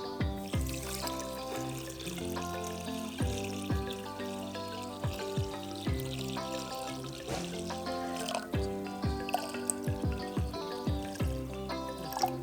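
Boiled water cooled to room temperature is poured into a homemade pineapple wine mix, giving a continuous close trickling and splashing with a few soft knocks and clinks along the way.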